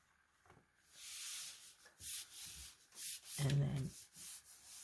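Folded paper being rubbed by hand during a painting lesson on tree reflections, soft swishing strokes that come in a few bursts, close and quiet, with a brief spoken phrase early on.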